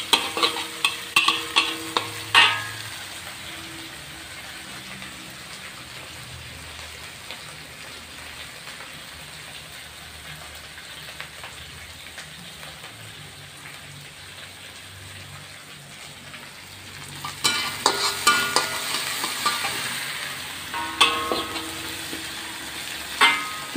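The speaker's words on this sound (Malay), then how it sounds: "sambil tu kita kacau juga ya rata-rata sehingga pecah minyak" A spatula scrapes and stirs sambal sardine paste sizzling in hot oil in a wok, with steady frying crackle throughout and louder bursts of metallic stirring at the start and near the end.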